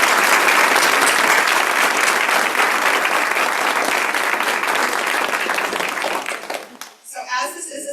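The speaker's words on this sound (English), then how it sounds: "Let's give them a round of applause." Loud, dense applause from a ceremony crowd honoring Purple Star award schools, sustained clapping that tapers off after about seven seconds as a speaker resumes talking.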